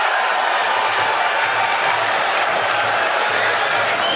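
An arena crowd at the 2009 NBA Draft reacts to the Minnesota Timberwolves selecting Johnny Flynn at sixth pick, producing a dense, loud, continuous roar of cheering and noise that barely varies over a few seconds.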